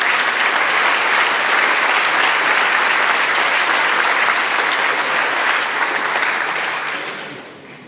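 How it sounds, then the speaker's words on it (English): An audience at a candidates forum breaks into sustained, close applause, with dense, even clapping that holds steady for several seconds before tapering off at the end. "Let's give them a round of applause for being here."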